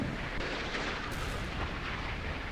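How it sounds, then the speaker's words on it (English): Secondary explosion aboard a warship in the naval combat game Sea Power, a dense rumbling blast roar sustained loudly throughout with a brief crackling burst partway through. "Secondary explosion."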